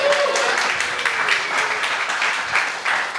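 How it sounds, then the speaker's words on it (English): A crowd applauds a barber guest at a Gradey Dick event, with loud, dense clapping and cheering and some voices mixed in. "Let's give him a round of applause."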